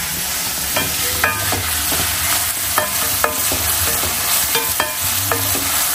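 Mutton chukka sautéing with curry leaves in an iron kadai, a steady loud sizzle broken by repeated scraping and clinking spatula strokes at close range, with no talking.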